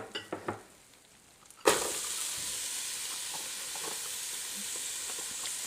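Diced onions hit melted fat in a pan for a shrimp with coconut milk Chamorro dish, bursting into a loud, steady sizzle after a few light knocks and a quiet moment.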